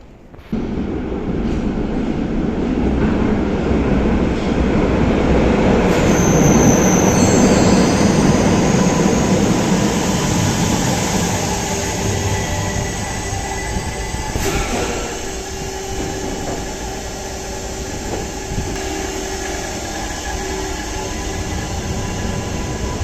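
A standard-gauge Stadtbahn light rail train rolls into a platform in the Rhine-Ruhr network, a loud rumbling roar that swells and then eases off, with high wheel squeals near the middle.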